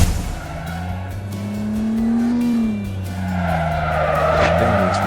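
Car skidding with squealing tires and a steady engine drone in the mobile racing game Vilnius Racing, a continuous loud slide with shifting pitch and no talk.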